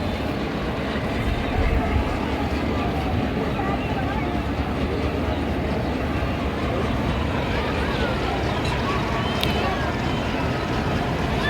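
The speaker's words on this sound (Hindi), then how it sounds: "जो सफारी ट्रेन है उसने अपनी स्पीड पकड़ना शुरू कर दी है" A safari train near Attock Junction picks up speed, rumbling steadily with broadband noise and rhythmic clatter, loud and continuous, with faint voices in the background.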